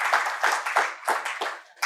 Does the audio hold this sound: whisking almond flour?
no